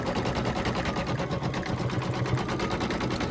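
An embroidery machine stitches a bunny tummy treat holder design, giving a steady, close mechanical whir with fine rapid needle pulses that runs unbroken for a few seconds.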